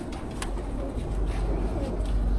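A colourful pigeon coos softly in a steady, low murmuring stream, fairly close, under a faint background hum.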